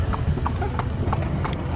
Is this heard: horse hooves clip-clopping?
yes